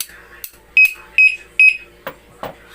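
Three short, loud electronic alarm chirps in a row from a motorcycle alarm lock being triggered, followed by a couple of fainter sharp bursts, close by with quiet between.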